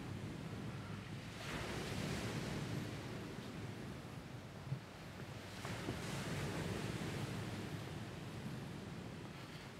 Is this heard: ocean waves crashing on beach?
yes